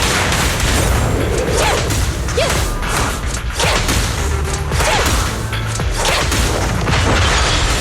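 Supporting fire explosions in Zenless Zone Zero boom and crash in a dense, continuous barrage, with repeated heavy thuds and whooshes layered over a loud, sustained roar.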